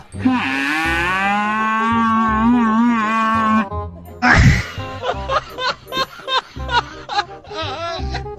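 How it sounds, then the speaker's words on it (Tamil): A long, loud bellowing moo from a nearby cow, wavering in pitch, followed by a burst of laughter and chuckling. "மாடு கத்தி பார்த்திருப்பீங்க"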